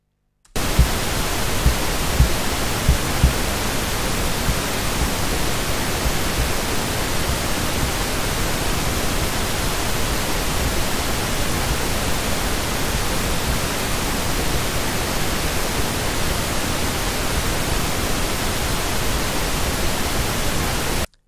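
Pink noise test signal played back in Adobe Audition, a steady, loud broadband hiss that starts abruptly, holds unchanged for about twenty seconds and cuts off cleanly, with no voices.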